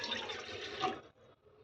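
A cup of water is poured into a bowl sitting on a stove, a loud, steady splashing rush for about a second before it cuts off and only faint trickling remains.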